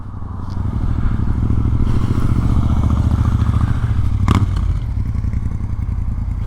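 A Yamaha XSR900 motorcycle engine runs steadily close by, a continuous low rumble with a brief sharp clatter partway through, no voices.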